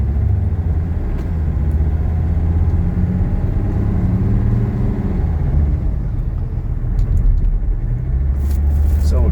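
A 1985 Mercedes 300TD wagon rolls through traffic, its steady low engine and road rumble droning close and continuous with no talk.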